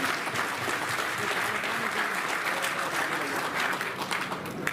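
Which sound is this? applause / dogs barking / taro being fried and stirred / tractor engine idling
applause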